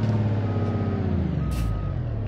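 A truck in BeamNG reverses with its backup alarm beeping steadily over a loud, close, rumbling diesel engine, and a short hiss of the air brakes cuts in near the end.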